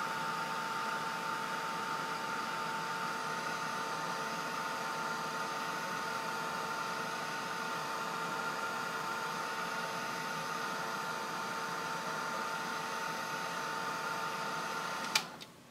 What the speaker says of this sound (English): I generally try to keep my heat tool moving like this